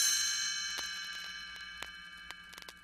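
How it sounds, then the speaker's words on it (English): Chimes ring softly for a read-along storybook page turn. A bright shimmering ring fades slowly, and faint ticking taps come close together near the end. "You will know it is time to turn the page when you hear the chimes ring like this."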